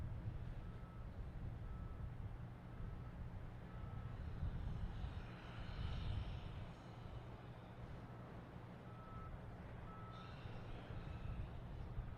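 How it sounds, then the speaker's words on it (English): A Delta Airbus A330-900 airliner inbound from London Heathrow makes a steady, distant engine roar at an airport, with no talk over it. "A330, 900, flight 59 coming in from London Heathrow"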